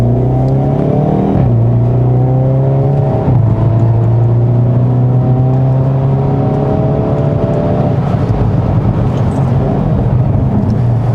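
A 2020 Hyundai Veloster N with a DCT gearbox pulls away in N mode, its engine loud and close, revving up through several quick upshifts with rising and dropping pitch.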